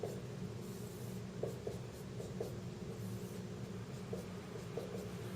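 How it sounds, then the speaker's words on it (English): Pen strokes scratching across paper while a Lewis structure is sketched, a steady soft rubbing with brief sharper strokes at intervals over a low background hum. "you could just draw in the hydrogens this way"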